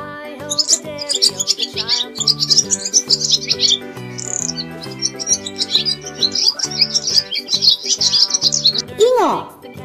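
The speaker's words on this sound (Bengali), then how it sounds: "ঘয়ে ঘুঘু পাখি ডাকছে গাছে" A dove calling from a tree, with rapid, repeated bright chirps running continuously over a melodic backing, close and fairly loud.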